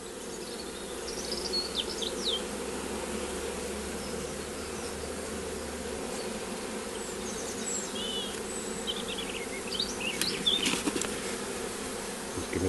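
A swarm of bees buzzes continuously and densely close by, a steady droning hum with occasional louder passes near the listener.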